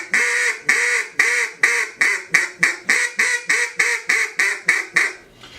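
A hand-blown duck call working through a cadence of about fifteen loud, close quack notes in a steady rhythm, the notes shortening slightly and then ending, with no talking.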